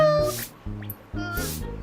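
A cartoonish cat meows in the Line Play avatar game, several short tonal mews in a row, clear and close, over a quiet backdrop.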